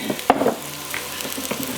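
Leeks sizzle and crackle in hot oil in a pan, with a few stirring clatters near the start.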